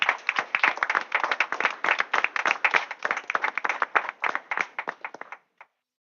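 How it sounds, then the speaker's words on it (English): A small group at a school board meeting claps steadily in applause for several seconds, then the claps thin out and stop with one last clap. "let's give them a round of applause as well."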